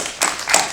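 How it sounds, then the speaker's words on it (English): An audience at a film festival Q&A screening applauds the film More Than One with short bursts of hand clapping, a brief swell of claps at the start and another near the end. "Let's give More Than One a round of applause"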